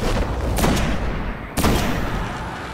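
Weapons fire in the video game Destiny, with two loud, sharp shots about a second apart, each followed by a brief echoing tail over a constant rumbling background.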